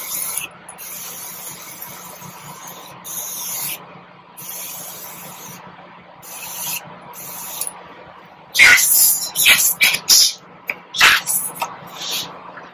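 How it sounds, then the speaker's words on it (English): Morphe Continuous Setting Mist sprayed in several short hissing bursts, close and fairly loud, coming one after another near the end over a quiet room background. "This is the Morphe Continuous Settings Mist."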